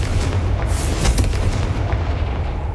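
A Confringo spell bursts in the Hogwarts Legacy video game, giving a loud, continuous booming rumble with crackling blasts over about three seconds and no voices.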